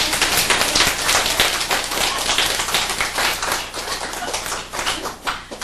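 A crowd at a Buddhist lecture claps in a dense, sustained burst of many hands, fairly loud and close, slowly thinning toward the end.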